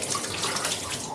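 Water gushing steadily from a tap, a dense continuous rushing splash that is close and fairly loud throughout, alone without speech.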